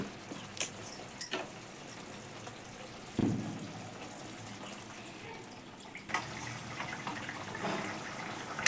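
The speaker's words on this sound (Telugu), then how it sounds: "so two hundred ML of వాటర్ని యాడ్ చేద్దాం" Water poured into paneer tikka masala gravy made with tomato puree, Kashmiri chilli powder and kasuri methi, a soft close liquid pour with a splash at the start, followed by a few light clinks and a quieter second pour.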